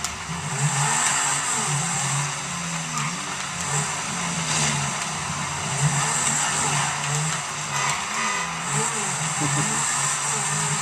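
Engine drone of a car in GTA 5 sliding through rain, a steady mid-loud hum with shifting pitch as it drifts, under a constant hiss of rain and tire noise.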